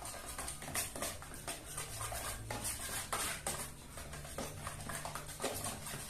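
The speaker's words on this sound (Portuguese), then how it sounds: "vou bater essa massa de novo" Coloured decorative plaster paste for a marble-effect wall finish being beaten and stirred with a tool, giving continuous scraping, tapping and clinking strokes at close range, fairly quiet and with no talk.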